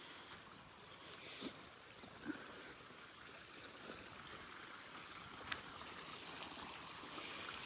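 Water runs steadily from a hand-wash tap near a solar panel on a farm, a soft continuous trickle at moderate distance with a few faint knocks and clicks over it, and no talking.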